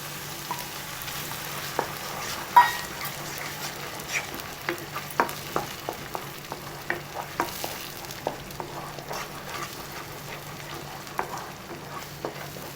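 Ground tomato paste sautéing with ginger garlic in a pan for paneer butter masala: a soft continuous sizzle under regular scraping stirs, about one or two per second, close and moderately loud, with no talk.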